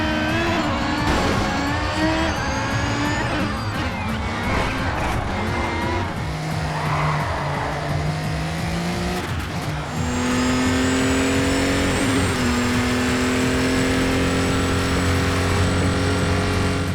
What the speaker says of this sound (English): Using this cockpit view also gives you a pretty raw car sound